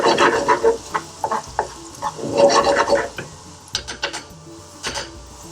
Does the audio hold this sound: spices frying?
yes